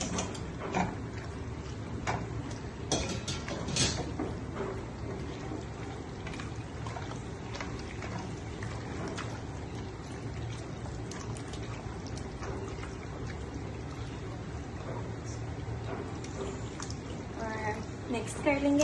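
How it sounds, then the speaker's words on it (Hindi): Cooked pasta tipped into a creamy white Alfredo sauce in a pan, giving a steady wet sloshing and scraping with soft clinks of a utensil against the pan, while a voice talks over it. "अब हम पास्ता ऐड करते हैं इसमें।"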